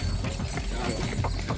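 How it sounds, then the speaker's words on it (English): A carriage horse's hooves clip-clop steadily near the Giza pyramids in Egypt during an evening desert ride, with loud, continuous outdoor noise and rumble around it. "this trip started with a horse and carriage ride."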